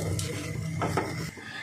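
Leftover rice and boiled potato mixed with gram flour, stirred in a bowl: soft scraping and clinking strokes under a steady low hum, close and moderately quiet.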